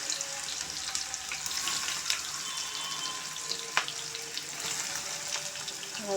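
Sliced bitter gourd sizzles in hot oil in a pan, a soft, steady hiss with occasional light pops, fairly quiet and with no talking over it.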